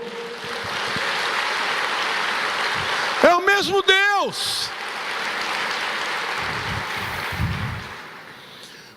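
A church congregation applauding the Lord during a sermon, a broad, steady wash of clapping from a large crowd that runs throughout, while a preacher's voice rises over it briefly in the middle.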